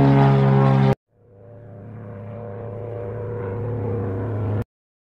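Steady engine drone of an airplane in flight in a cartoon, a low hum rising slightly in loudness, preceded by a brief louder burst of sound.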